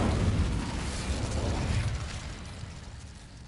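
Incendio fire spell cast in the Hogwarts Legacy video game, a loud fiery whoosh and burst with rumbling low end that gradually dies away over a few seconds, no voices over it.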